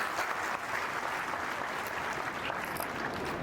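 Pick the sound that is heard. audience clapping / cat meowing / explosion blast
audience clapping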